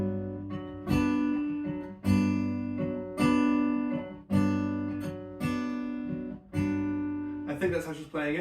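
Fingerpicked acoustic guitar playing the pattern from a song, repeating plucked phrases roughly every second with bass notes and treble strings ringing together, close and fairly soft, with no talking.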